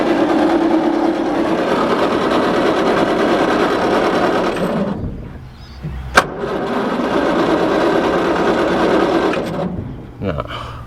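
A Bedford K model rat rod truck's engine is cranked with the key, a steady loud mechanical churning running for about five seconds, then a second long cranking bout after a brief pause, ending abruptly.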